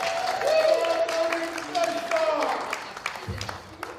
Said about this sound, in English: Round of applause for our participants.